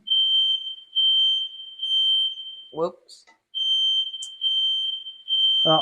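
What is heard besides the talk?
fire alarm going off while cooking chicken marsala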